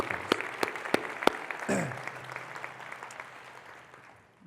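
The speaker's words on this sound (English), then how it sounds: "How about a huge round of applause for Marissa" Conference audience at a worksite wellness event applauding, a burst of sharp claps in the first seconds fading into a softer, thinning round, with a brief spoken word near the start.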